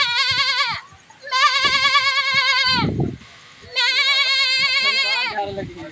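A person imitates a goat, producing two long, nasal, wavering bleats separated by a short pause, loud and close, with a few breathy gaps between calls.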